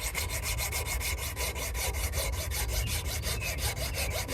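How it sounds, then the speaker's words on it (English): Fine saw cutting through the plastic top of a Sun Microsystems NVRAM chip, a steady rapid back-and-forth rasp of short repeated strokes, close up and alone with no talking. "I'll saw the top part in half, about midway"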